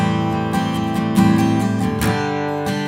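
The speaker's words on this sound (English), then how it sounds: "essentially the acoustic player is just going full 16th notes" Acoustic guitar strummed in steady, rapid sixteenth-note rhythm with periodic accented chord hits, close and loud, no voices.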